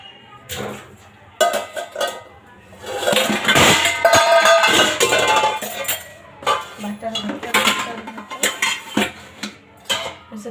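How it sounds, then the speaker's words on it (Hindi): Dishes, pots and steel utensils clank and clatter while being washed in a home kitchen, loud irregular metallic knocks and clinks in bursts, with a busier stretch in the middle and scattered sharp clanks toward the end. "बर्तन धुलने थे सुबह"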